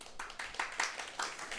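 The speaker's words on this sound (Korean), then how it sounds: "아이 무슨 박수를 이렇게" Scattered applause and clapping from an audience in a lecture setting, a handful of uneven claps at moderate distance over about two seconds, with no talking.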